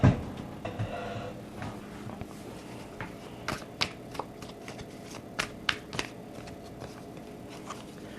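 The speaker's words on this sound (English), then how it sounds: "cards are falling to the floor because I'm inept at shuffling" Tarot cards being shuffled by hand, quiet scattered flicks and soft slaps of cards at irregular intervals, with a few cards dropping, faint and close.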